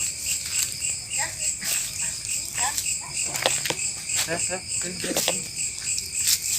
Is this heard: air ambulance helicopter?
no